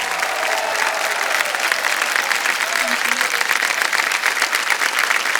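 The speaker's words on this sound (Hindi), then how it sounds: "ताली बज जाए जोर से इनके लिए" Loud, sustained studio audience applause fills a television quiz show after a contestant answers correctly and wins a cheque, steady dense clapping throughout with faint voices beneath it.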